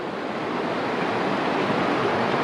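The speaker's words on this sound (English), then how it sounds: "have a last look down the brook, and that's really in full flow" A brook swollen after heavy rain rushes in full flow, a steady, loud, close broadband wash of water with no breaks and no voices.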